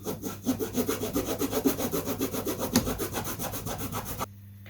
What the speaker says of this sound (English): A bit of sanding to do, of course.